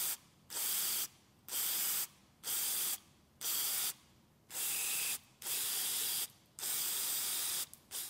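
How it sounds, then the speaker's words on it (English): An aerosol cleaner sprays onto the hot wire of a mass air flow sensor in short, close bursts, about seven hisses of roughly half a second each separated by brief pauses. "flip this around and spray at the hot wire from this angle as well"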